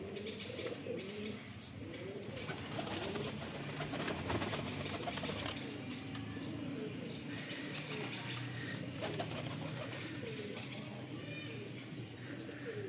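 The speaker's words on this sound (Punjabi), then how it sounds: "ਹਰ ਨਸਲ ਦੇ ਵਿੱਚ ਕਬੂਤਰ ਹੈ।" Pigeons of many breeds kept by a breeder in Sarai Alamgir, Jhelum, coo in repeated low soft bursts amid faint chirps and background noise, fairly quiet overall.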